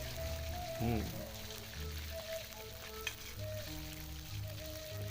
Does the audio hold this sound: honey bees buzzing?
no